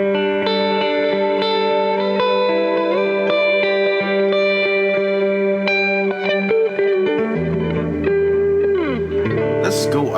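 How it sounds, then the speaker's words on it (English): A clean electric guitar through a Fender Deluxe Reverb amp rings out in chords and single notes with warm amp tone and lush reverb, played steadily and alone at close range. "Deluxe Reverb Clean, which I suspect is going to be quite nice."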